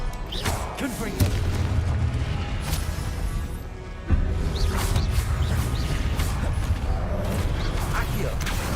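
Confringo fire-blast spells in the game Hogwarts Legacy go off twice, each a heavy booming crash with rumbling debris and whooshes, loud and close over a busy mechanical game backdrop.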